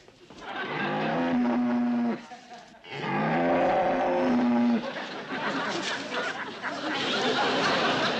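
A Guernsey cow moos in long, low drawn-out calls, two of them close together, with a farmyard clamor of voices and other animal sounds continuing behind.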